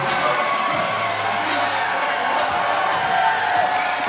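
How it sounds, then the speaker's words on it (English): Crowd at a Hub City Fight Night MMA event roaring and cheering for a fighter, a loud continuous wash of noise with scattered claps, with commentators talking over it. "the crowd goes crazy for Austin every time"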